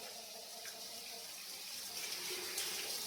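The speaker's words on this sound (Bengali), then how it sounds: "চিকেন তো ভালো করে ধুতে হবে।" Raw chicken pieces are washed under a running tap, giving a steady, moderately faint splash of water into a sink throughout.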